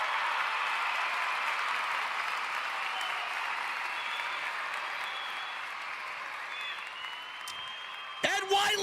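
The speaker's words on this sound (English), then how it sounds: "Round of applause for everybody in the venue." A crowd in a venue applauds in a steady, even wash of clapping that holds for several seconds and then ends abruptly, followed by a brief close knock.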